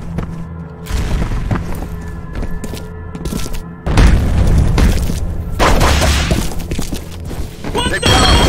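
A grenade goes off in the first-person shooter FEAR Combat as a loud, booming blast, with heavy thuds and gunfire-like crashes rolling on through the clip. A voice shouts briefly in the middle.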